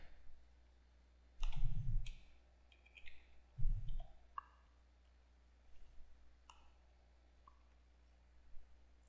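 A computer mouse gives a handful of sharp, sparse clicks while a user works through production software. Two duller low thumps come early, and the clicks are close and moderately quiet against a faint background hum.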